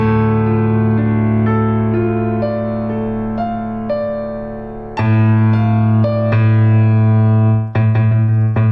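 A low piano interval rings out, a D with an A above, struck several times and left to sustain and decay between strikes.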